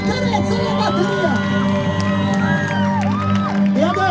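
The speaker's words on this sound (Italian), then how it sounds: "un grande applauso ancora per Francesco Baccarezza e la batteria!" A concert crowd after a drum performance cheers, whoops and shouts loudly and steadily, with applause folded into the roar and a sustained band tone ringing underneath throughout.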